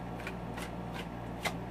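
A Tarot of the Tattoo Age deck is shuffled in several quick riffling bursts close by, ending with a brief sharper flick as one card is drawn.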